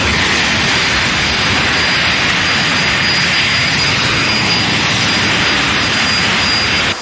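A jet funny car roars at a drag strip during the pre-race afterburner firefight, a loud, steady, unbroken blast of jet thrust that fills the whole stretch with broadband noise and a thin high whine.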